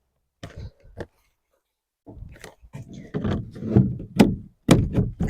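A compost bin door on an allotment is fitted back into place. It makes several knocks, scrapes and a clatter of wood or plastic that build into a busier rattle toward the end.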